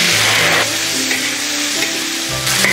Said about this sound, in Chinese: 油烧热放入冰糖炒个糖色，等它起大泡泡的时候就可以放入牛肉